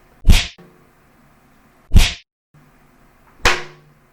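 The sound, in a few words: wet towel whip cracking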